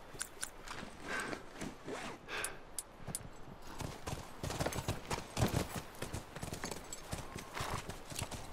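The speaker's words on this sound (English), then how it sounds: "Come on, back to the horses." Horses' hooves clip-clopping in The Last of Us, a steady uneven run of hoof strikes at moderate loudness, with occasional breathy snorts and sighs from the animals and no talk.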